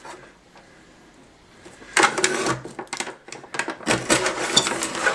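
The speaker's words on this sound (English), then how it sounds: "I'm just going to bring in my trimmer because I know what it's supposed to measure, and I'm just going to cut off whatever little bits" A paper trimmer slices the overhanging edges off holiday cards, giving a run of close, crisp scraping cuts and clacks after a quiet start, with no talking.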